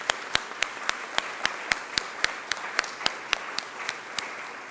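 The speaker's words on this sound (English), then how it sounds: "So one more round of applause" Applause at a mayor's press conference honoring national service workers, with sharp regular claps standing out over a thinner spread of clapping, steady and close, with no talk.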